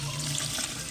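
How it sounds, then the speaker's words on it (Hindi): Water pours steadily into a cooking pot of garam masala and spices in a Pakistani village kitchen, a continuous close splashing stream. "अभी इसमें जा रहा है पानी"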